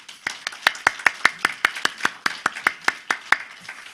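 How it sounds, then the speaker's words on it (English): A round of applause at a talk on spiritual ethics, heard as sparse, evenly spaced claps in a steady rhythm of about four per second, crisp and near, with no talking over it. "another round of applause"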